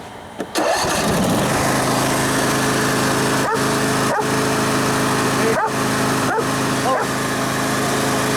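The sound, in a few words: Craftsman garden tractor engine running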